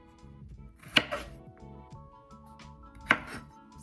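A knife cuts green onion on a cutting board with two sharp, distinct thwacks about two seconds apart, each followed by a softer tap, over quiet background music.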